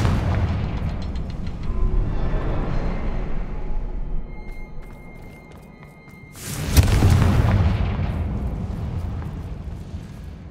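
A fiery Confringo spell explosion in Hogwarts Legacy, a deep rumbling blast with rushing fire, preceded by low booming ambience and small pops, then a sharp loud burst and a lingering roar.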